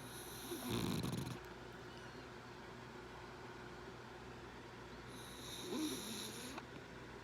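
A French bulldog snores in the middle of the night, two slow rasping snores several seconds apart, close by against a steady low room hum.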